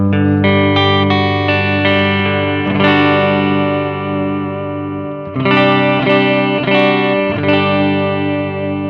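Electric guitar with a clean tone through a Mooer GE200 amp simulator set to a Fender Twin-style amp with reverb, ringing chords strummed in a few slow, sustained phrases, loud and close with a lingering reverb tail.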